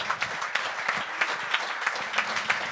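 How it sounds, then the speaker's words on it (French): Applause at a comedy show, a crowd clapping with distinct individual claps standing out in a loose, lively rhythm over a continuous wash, near and moderately loud. "On peut applaudir."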